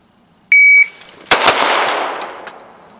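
A shot timer gives one sharp electronic beep, then a pistol fires two quick shots in a concealed carry drill, loud and close, with the reports ringing out in a long decaying echo.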